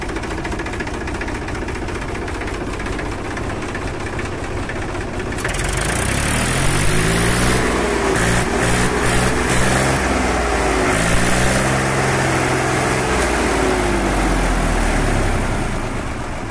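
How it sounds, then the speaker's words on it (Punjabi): A 2004 Mahindra 275 DI tractor engine idles close by, a steady throbbing diesel chug that starts partway through and runs on evenly, with no one speaking. "ਮੋਟਰ ਦੀ ਇੰਜਣ ਦੀ ਆਵਾਜ਼ ਚੈੱਕ ਕਰ ਲਓ"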